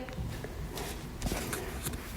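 A mail carrier walks at an open house door, producing a few soft, close footsteps and shuffles over a quiet indoor background.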